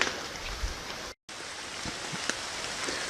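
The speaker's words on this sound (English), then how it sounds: "It's raining." Steady light rain patters outdoors in the woods around a debris hut shelter, a soft continuous hiss with occasional drop ticks and one brief dropout.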